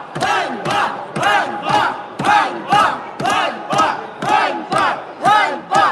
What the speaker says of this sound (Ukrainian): завершила засідання під вигуки Ганьба